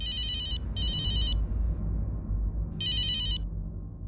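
A telephone ringtone rings in three loud, bright electronic bursts with short gaps between them, set against low household background noise and no talk.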